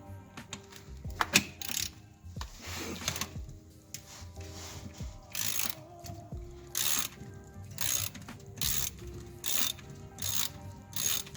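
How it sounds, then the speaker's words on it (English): Ratchet wrench turning the transmission drain plug on a BMW automatic gearbox, a series of sharp clicking bursts in quick runs, close and clear, with brief pauses between strokes and no talk. "Then I get a ratchet hanger and put on that."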